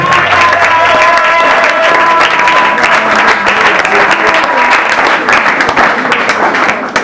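A church congregation applauds and cheers for Jesus, a dense, steady wash of clapping and crowd noise filling the whole stretch at close range, with faint voices mixed in.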